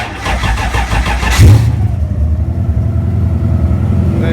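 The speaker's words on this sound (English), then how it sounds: "Put the kill switch in, ignition on, give it a start." A car engine cranks over repeatedly on the starter, powered by a small dry cell battery with the kill switch in and ignition on, loud and close, the rhythmic chugging dropping away after about a second and a half into a lower steady running rumble.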